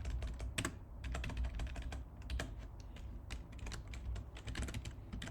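Someone types steadily on a computer keyboard while writing code, producing quick, irregular key clicks at close range with brief pauses between bursts. No one speaks.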